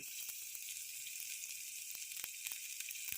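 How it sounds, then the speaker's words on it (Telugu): Mutton for a mutton curry sizzles and fries in a pan with spices, a faint, steady hiss crackling with small pops throughout, no voices. "ఆ మటన్ అనేది ఇందులోకి వేసేయాలి."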